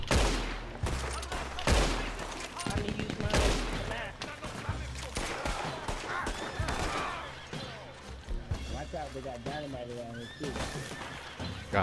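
Gunfire in a Red Dead Redemption 2 Online legendary bounty shootout with snipers, sharp shots cracking over whinnying horses and clopping hooves while a player talks throughout.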